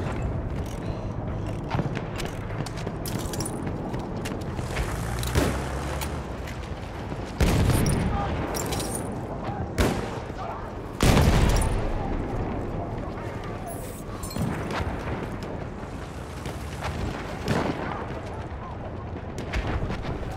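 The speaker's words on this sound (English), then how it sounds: "Enemy machine gun over there!" Battlefield 1 online match with sustained machine gun fire and scattered explosions booming through dense battlefield noise, loud and continuous, with shouting voices over the din.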